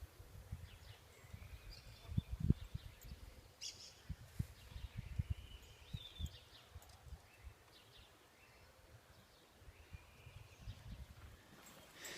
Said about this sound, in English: You can hear all the birds tweeting.